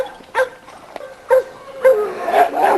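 Small dog from a kept litter gives a few short, close yips and barks spaced through the moment, with a whimpering edge, loud and clear over a quiet yard.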